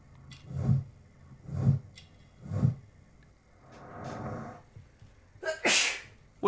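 Sneezing in a Sherlock Holmes Crimes and Punishments game scene, a series of close, loud sneezes: three sharp bursts at even intervals, then a longer wheezy one and a final hissing burst.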